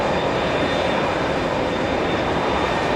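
Jet airplane at JFK airport producing a steady, loud, broadband engine roar that fills the whole stretch without letup or voices.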